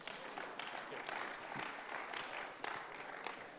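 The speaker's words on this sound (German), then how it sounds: "Wir geben nochmal echt einen kräftigen Applaus für die zwei." A live audience gives a sustained, dense round of applause, steady clapping filling the whole stretch with a few sharper bursts near the end.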